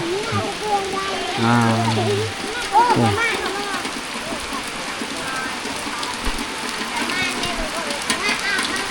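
Steady rain patters throughout in the evening at a Bru village in Laos, a dense hiss of drops under someone talking, with a brief buzzy sound partway through.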